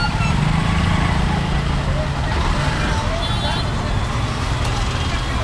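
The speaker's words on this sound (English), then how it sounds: "Lots of traffic here." Busy street traffic in Connaught Place, New Delhi, a steady dense roadway roar of cars, buses and motorbikes with faint horn notes, continuous and fairly distant.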